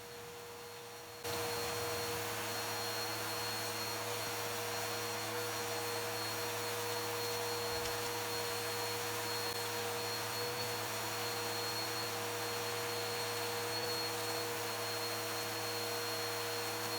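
A vacuum cleaner runs steadily while cleaning baking soda out of a car seat, a constant loud whine with a tonal hum that starts abruptly and holds unchanged for the rest of the clip.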